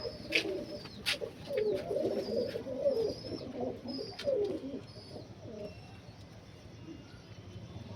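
Young Andhra fullsira pigeons coo in soft repeated phrases over the first few seconds, with a few sharp clicks and faint chirps nearby, and the calls fade toward the end.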